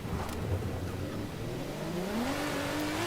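A Lamborghini Countach drift car driving off in the rain on a slippery surface, its engine droning steadily with a slowly rising pitch under continuous road and rain noise, no talk.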